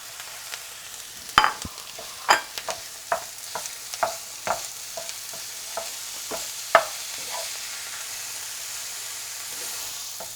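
Ground beef sizzles in a pan for green bean rice while a utensil scrapes and taps through it, giving irregular sharp knocks over a steady frying hiss. No one speaks.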